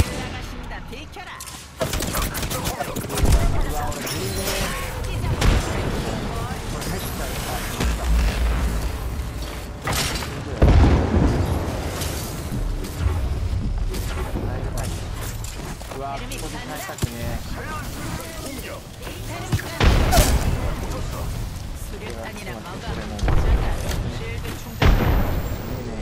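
Repeated gunfire bursts and booms from Apex Legends solo ranked play, loud and dense throughout with mechanical clatter, under intermittent talking.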